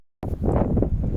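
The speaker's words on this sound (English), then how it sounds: "So it's a little bit windy" Wind buffets the microphone at a rocky shore at night during rock fishing, a sudden loud rumbling gust that roars on steadily after a brief silence.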